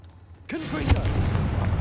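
Confringo blasting spell from the Hogwarts Legacy video game, a sudden loud blast erupting after near silence, with a sharp crack at its peak followed by a rumbling, crackling tail of debris.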